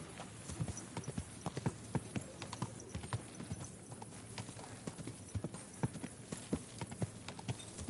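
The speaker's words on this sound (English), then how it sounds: "Is this your first time riding a horse?" Horse hooves clip-clop steadily at a riding pace in Kingdom Come: Deliverance II, a medieval role-playing game, with regular sharp hoof strikes over a background of ambient game sound.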